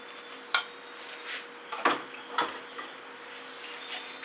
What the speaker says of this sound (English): I'm going to grab my Princeton Art Tool Catalyst spatula to do that. Just put it all down and put it in the bucket.